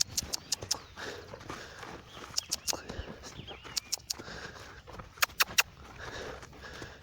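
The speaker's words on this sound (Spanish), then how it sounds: "Ahí el caballo ya está caminando solo, de costado." Horse walking sideways on the ground while being trained, hooves clip-clopping in an irregular rhythm of sharp knocks at close range, with faint talk and a bird now and then in the background.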